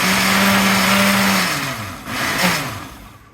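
Kitchen blender pulsing paper pulp on high, a loud whirring motor hum that holds steady, then winds down, surges again briefly and fades out, with no one talking.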